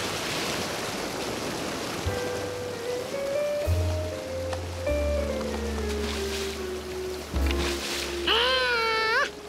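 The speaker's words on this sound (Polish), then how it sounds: "Nawet kapitan łódki zabawki może trafić na rwące wody w spokojnym strumyku." Steady rushing stream water carrying a toy boat fills the clip, with low rumbling surges and a rising whistle-like chirp near the end.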